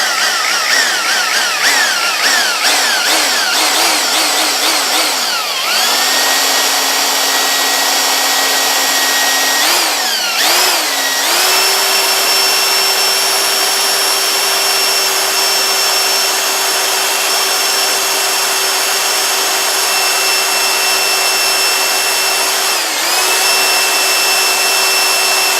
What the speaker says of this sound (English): I'm going to carefully drill it out.